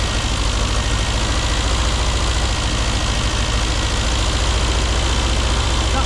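A classic Mini Cooper RSP engine idles steadily during ignition timing work, a loud, close, continuous low rumble with a slightly uneven pulse and no talking over it.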